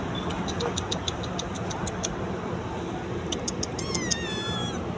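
A cat meows several times, with short close meows early on and a longer rising and falling cry near the end, over faint background noise.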